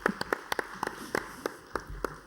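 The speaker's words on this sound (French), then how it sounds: "On applaudit Laurent." A small group claps briefly, sparse uneven hand claps in a room rather than a full ovation.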